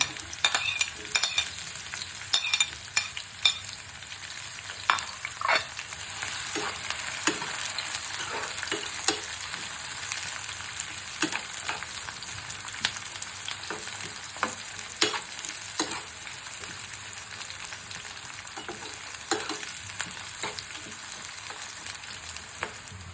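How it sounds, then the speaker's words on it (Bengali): Thick-cut round slices of onion with chopped onion and garlic frying in half a cup of white oil, a steady close sizzle broken by repeated scraping stir strokes, with no talking. "পেঁয়াজ ভাজা হয়ে গেছে"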